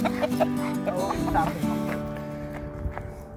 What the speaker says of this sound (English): Now we got chickens and roosters.